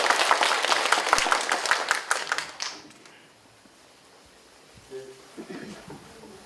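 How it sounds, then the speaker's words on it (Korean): Applause from a talk-concert audience at a Won Buddhist central district gathering, a dense burst of many hands clapping that fades out after a few seconds, followed by a quieter room. "이 자리에 참석한 여러분들도 주인공이라는 의미에서 박수 한번 치겠습니다"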